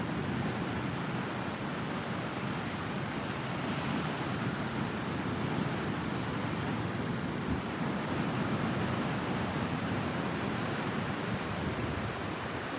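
High surf at Sawarna Beach, a dense, steady roar of crashing ocean waves on the shore, loud and continuous with no clear breaks, mixed with wind buffeting the microphone.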